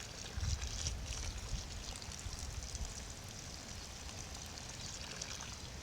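Water poured steadily onto a macro-propagation bed of banana and plantain suckers gives a continuous close splashing hiss with no pauses for about six seconds, slightly stronger at the start, and no one speaks.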